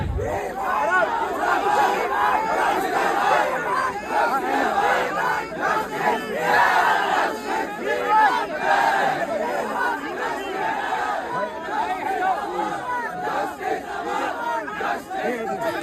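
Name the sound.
protest crowd chanting slogans in Patna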